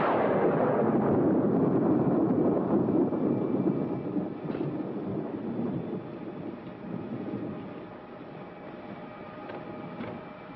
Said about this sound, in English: Well, another stormy weekend.